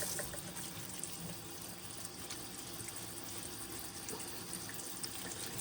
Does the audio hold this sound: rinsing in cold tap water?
yes